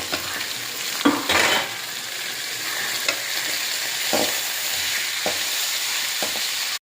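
Ridge gourd and garlic sauté in a pan with a continuous bright sizzle, broken by occasional stirring scrapes and soft clatters of a spatula against the pan.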